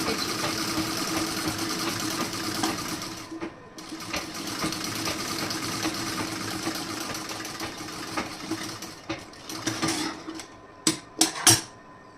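A sewing machine stitches a sari blouse in a steady, continuous whir that runs unbroken for most of the stretch, pausing briefly, then ending with a few sharp clicks and clacks near the close.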